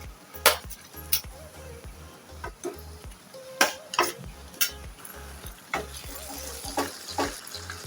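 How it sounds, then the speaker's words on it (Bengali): Marinated mutton fries in a pan for a kala bhuna curry, giving a steady sizzle broken by repeated sharp clinks and scrapes of a spoon stirring against the metal. "মাংসটা আমি কয়েক মিনিট ভেজে নেব"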